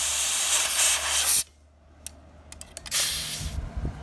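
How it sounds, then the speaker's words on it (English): Compressed air blasts mouse nest debris out of a vintage Ford Capri found stored in a barn, a loud steady hiss that cuts off abruptly, followed by several short puffs and then a renewed strong blast. "we got all the mouse junk blown out"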